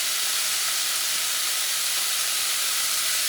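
Wild boar meat sautés with onions in a pan, producing a loud, dense, unbroken sizzling hiss that holds steady throughout with no voices.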